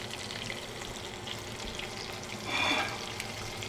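Chicken pieces fry in oil under a splatter guard, a steady close crackle with a brief louder hiss partway through, no voices.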